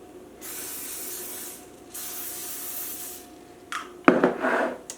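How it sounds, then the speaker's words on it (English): Several hissing bursts of cooking spray onto a waffle iron, each lasting about a second, followed by a louder sizzle or scraping sound at the end. "now I'm going to spray my waffle iron here with some cooking"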